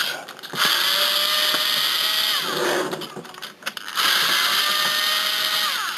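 A power screwdriver whirs steadily while backing Torx screws out of a PS4 Fat 500GB console, with a couple of short pauses and a close, continuous mechanical buzz.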